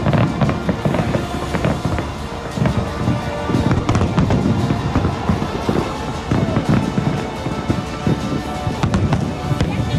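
A record fireworks display over Ras Al Khaimah in the UAE, with dense, continuous crackling and booming bursts that stay loud and close for the whole stretch, heavy overlapping blasts filling the air.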